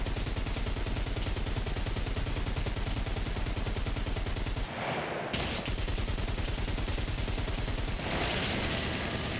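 Sustained rapid gunfire pours into a mech robot in the survival game SCUM, a loud, dense automatic stream that briefly breaks off midway before resuming at full intensity.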